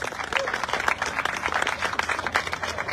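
Audience at a neighborhood awards ceremony giving a round of applause, steady dense clapping from a moderately distant crowd, fairly quiet and even throughout.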